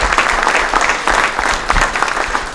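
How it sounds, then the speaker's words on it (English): Brief burst of audience clapping at a mayor's community night event, a crowd of hands applauding loudly and evenly for a couple of seconds, no voices over it. "Could you guys give him a big round of applause?"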